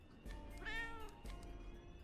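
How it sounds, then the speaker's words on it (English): A cat meows once in the Tokyo Dark video game, a clear, drawn-out call that stands out over a steady low in-game background hum. "Cat."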